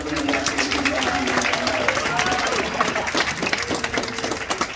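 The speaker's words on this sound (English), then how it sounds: "let's give Nicholas one more round of applause" A science museum audience gives a round of applause, full and continuous clapping that slowly thins, with a few voices and cheers mixed in.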